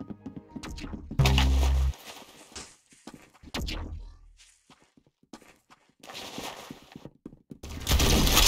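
Gunfire bursts in a video game, a couple of loud blasts and clusters of sharper cracks separated by quieter gaps, with game sounds between them.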